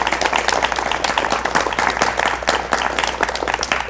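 Sustained clapping from a studio audience at a 1980s Korean TV talk show keeps going as a guest takes the stage, a continuous, evenly loud crowd of hands with no voices on top.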